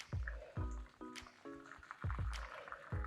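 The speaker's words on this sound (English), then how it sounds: "I'm using a fine mesh strainer so that I can catch all of the little bits of seasonings that I don't want in there." Homemade vegetable broth poured through a fine mesh strainer makes soft, quiet splashes and drips, coming in several uneven glugs with squishy, wet pulses and no talk.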